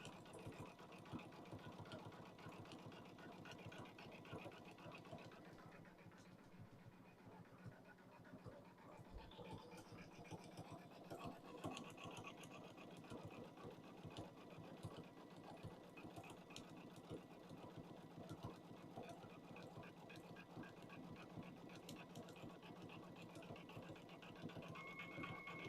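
Sewing machine stitching fursuit fabric, running in a steady continuous whir with rapid needle rhythm throughout, close and fairly loud, with no talking.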